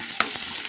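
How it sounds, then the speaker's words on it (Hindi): A chili, garlic and onion tadka sizzles and fries steadily in hot oil, with two brief sharp stirring clinks over the constant hiss. "मिर्चा लाल हो चुका है, लहसुन और प्याज साथ में मैं डाल दे रही हूँ"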